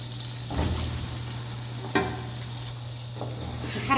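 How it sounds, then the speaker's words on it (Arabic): Lamb meat and onion fry in a pan, a steady sizzle broken by a few distinct stirring scrapes and clinks at an even pace, close and moderately loud, with no talk. "نحرك اللحم مع البصل."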